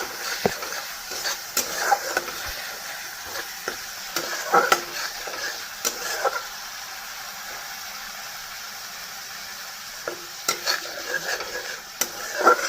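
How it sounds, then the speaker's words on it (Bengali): Spice paste with potatoes sizzles steadily in a pan while a spatula stirs it in scattered scrapes and taps, close by and with no voices over it. "মশলাটা কষিয়ে নিই মশলাটা কষিয়ে তারপর একটু ঝুল দিয়ে দেবো"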